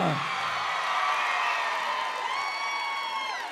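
A concert audience cheers and whoops as a Czech singer is welcomed onstage at a radio station's 25th-anniversary show, a steady, fairly distant wash of crowd noise with a rising tonal tail near the end.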